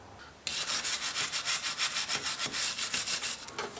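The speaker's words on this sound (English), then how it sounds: "I'm going to use this wire brush to clean up some of the surface rust on the mating surfaces here." A wire brush scrubs surface rust off the mating surfaces of a Chevy Suburban wheel hub in fast, even back-and-forth strokes, about twenty harsh rasping passes, loud and close with no voices.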